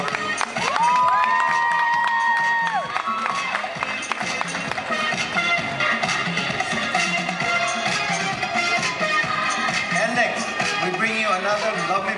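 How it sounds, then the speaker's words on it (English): An audience at a Filipino fashion show at a festival breaks into lively applause and cheering, a dense crowd roar with shouts and clapping that holds steady, while a voice and some music carry faintly underneath. "Let's give a round of applause to mother and daughter."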